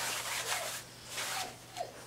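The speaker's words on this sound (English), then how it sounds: "you get the silicone off" Cloth or fingers rubbing silicone residue off the dried surface of an acrylic pour painting with iridescent paint, three separate soft scrubbing strokes, close and fairly quiet.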